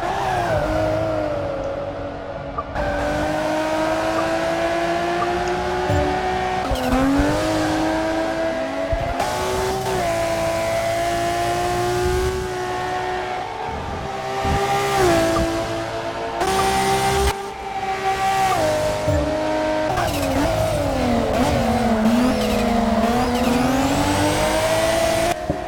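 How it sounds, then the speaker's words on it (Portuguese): Race cars lapping Silverstone in the video game Forza Motorsport 6, with a loud, continuous engine drone that rises and falls through gear shifts and revs, sustained throughout with no talk. "Nós estamos aí a bordo do carro do Renegado, que vai disputando posição aí com o Caboclo"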